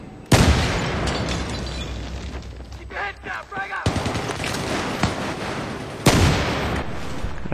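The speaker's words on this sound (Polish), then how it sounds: "Rzucimy granat." Battlefield 3 combat on Xbox 360: a loud grenade explosion booms near the start, followed by bursts of gunfire and further heavy blasts, with some talk mixed in.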